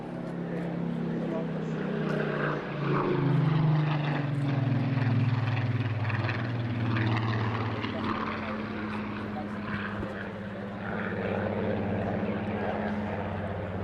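A Spitfire PR XIX with a Griffon engine flying a display at Eastbourne Airshow, its loud propeller-engine drone swelling and shifting pitch as it passes, heard under continuous commentary.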